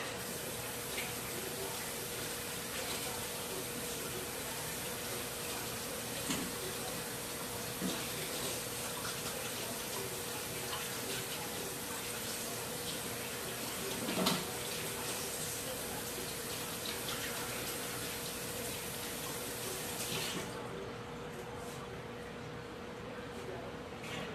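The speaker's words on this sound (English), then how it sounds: "I'm gonna wash my hands real quick." A kitchen tap runs steadily while hands are washed, a continuous rushing of water into a sink with occasional splashes, and the flow stops near the end.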